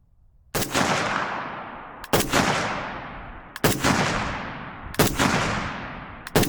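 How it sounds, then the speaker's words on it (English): Riley Defense AK-103 rifle (RAK47-P-SF) firing its first five shots, loud sharp reports spaced about 1.5 seconds apart, each followed by a long echoing decay outdoors, with no talking. "These are the very first 5 shots of the Riley Defense AK-103."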